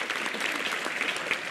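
Audience clapping at an Indonesian religious talk show gathering, a dense, steady wash of many hands throughout, moderately loud and unbroken, with no one speaking over it.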